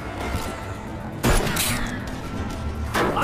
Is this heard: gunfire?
yes